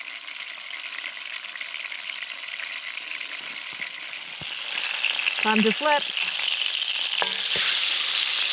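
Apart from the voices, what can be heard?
meat sizzling in a hot wok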